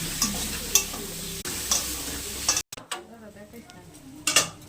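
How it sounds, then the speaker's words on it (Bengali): Eggs with potato frying in a pan, a steady sizzle under repeated scraping and clinking of a utensil stirring against the metal, close and fairly loud, with a brief cut midway. "এবার ডিমগুলো ফাটিয়ে দিয়ে দিলাম"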